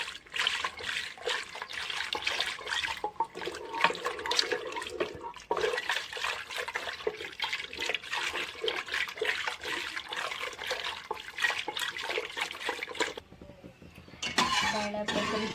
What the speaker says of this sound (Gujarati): એક ગ્લાસ પાણી નાખશું અને છેવણીના મદદથી આપણે હવે હલાવી લઈશું.